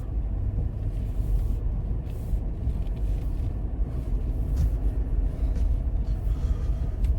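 A car pulls away across a thin, weak soybean field, its engine a steady low rumble that holds at an even, fairly loud level throughout with no voices over it.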